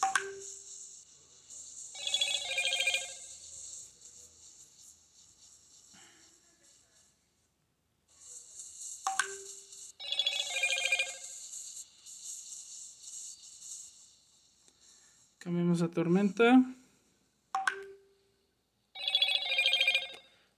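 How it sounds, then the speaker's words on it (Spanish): Phone notification chimes ring out during a Marvel Future Fight mobile game session: repeated bright tonal bursts separated by pauses, with a short spoken phrase between them. "siempre se me olvida desactivar las notificaciones"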